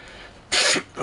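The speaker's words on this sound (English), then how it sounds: "I was going to try and discreetly blow my nose" A person blows their nose in one short, hissing burst, close and fairly loud, with a faint follow-up puff at the end.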